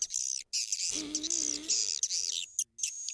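An edible-nest swiftlet call recording plays bright, rapid chirping and clicking bursts, loud and close, with a lower warbling tone in the middle and short gaps between phrases.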